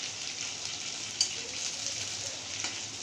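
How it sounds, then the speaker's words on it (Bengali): Soybean chunks deep-frying in oil for pakora, a low, even bubbling sizzle with a small pop now and then, steady and fairly quiet, with no talk. "সোয়াবিনগুলো আধ ভাজা হয়ে এসেছে"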